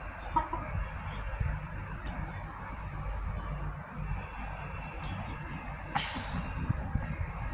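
Pet chickens cluck softly and intermittently close by over a steady low background rumble, with no talk.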